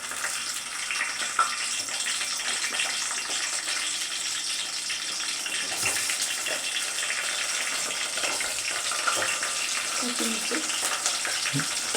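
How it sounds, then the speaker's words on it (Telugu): Sliced onions sizzle and fry steadily in hot oil in a pan for a chicken curry, a continuous bright crackle with occasional stirring noises close by. "ఇప్పుడు దాంట్లోకి మనం ముందుగా ఉల్లిపాయలు వేసుకుందాం."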